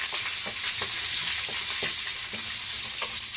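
Pork sautéing with onion and garlic in a pan with the fat already rendered out, giving a steady close sizzle with occasional soft stirring scrapes and no talk.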